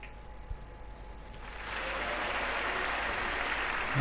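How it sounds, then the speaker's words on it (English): A crowd at a snooker match in the Metrodome, Barnsley, breaks into applause and cheering that swells after a quiet moment and holds as a steady, broad wash of clapping. "And getting a tremendous cheer from this crowd here at the Metrodome Barnsley."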